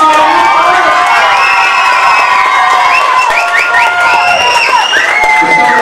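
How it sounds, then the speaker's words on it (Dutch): A crowd at a youth carnival prince election cheers loudly, clapping mixed with children's shouts and whoops, a dense, continuous roar close by throughout. "Applaus!"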